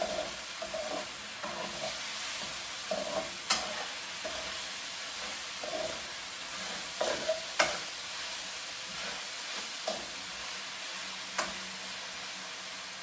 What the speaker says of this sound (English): And then I'm going to stir them together.